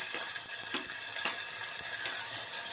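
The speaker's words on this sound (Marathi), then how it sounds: "तेल तापले याच्यामध्ये लसूण कांदा आणि कढीपत्ता घालूया तेलामध्ये" Garlic, onion and curry leaves dropped into hot oil, giving a steady close crackling sizzle throughout with small pops and bursts, no talking.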